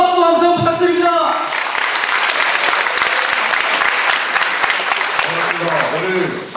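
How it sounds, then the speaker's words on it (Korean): Loud applause and cheering from a union hall audience at a new members' training session, a dense wash of clapping with a voice over it at the start and shouts scattered through. "큰 박수 함성 부탁드립니다."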